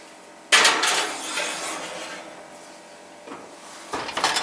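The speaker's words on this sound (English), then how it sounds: "So I'm going to shove it in that oven right there." A baking dish of homemade pineapple cobbler pushed into a hot oven, a sharp metallic clatter and scrape of the rack followed by quieter rattles and a final clunk.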